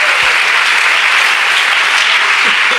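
Loud, dense applause from a church congregation during a Spanish-language sermon, a continuous roar of many hands clapping at once that holds steady from start to finish.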